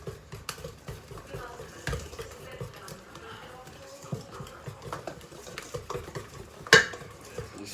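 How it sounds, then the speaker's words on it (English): Cake roll batter whisked in a bowl, giving a steady, fairly quiet patter of rapid stirring and light clinking, with one sharper knock near the end. "And I'm gonna whisk it."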